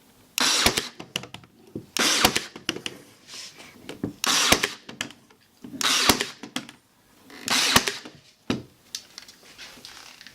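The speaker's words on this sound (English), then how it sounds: "we decided to brad nail the existing piece of plywood" A brad nailer drives nails into plywood on a piece of antique furniture, sounding as about six loud close bursts of bright hissing and clattering, each followed by a sharp snap, spaced roughly every one and a half seconds.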